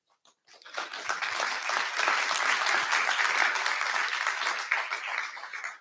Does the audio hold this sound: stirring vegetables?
no